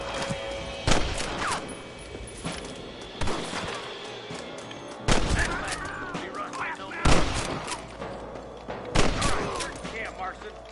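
Repeated gunshots from a Red Dead Redemption shootout: sharp, loud cracks scattered irregularly across the scene with brief gaps, over a low ambient background.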